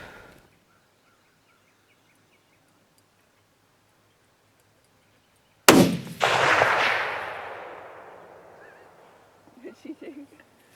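A single loud .300 Winchester Magnum rifle shot fired outdoors cracks sharply after a quiet stretch, then rolls away in a long decaying echo, followed by a faint voice.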